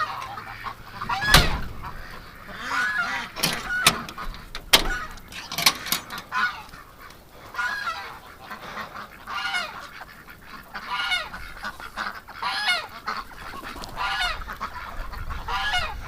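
Several geese honk repeatedly at close range, loud irregular bursts of calls in a barnyard, with quieter gaps between.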